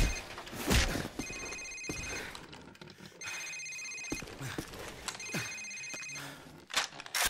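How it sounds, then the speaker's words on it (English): Cell phone ringing in a Call of Duty safehouse mission, three repeated electronic ring bursts evenly spaced, moderately loud, amid scuffling and background game noise. "Sir, it's his cell phone."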